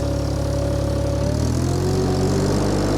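The drive of a VMENG 25HP mulcher spinning up, a loud steady engine drone whose tones slowly rise and shift as the drive gains speed, close by and without talk.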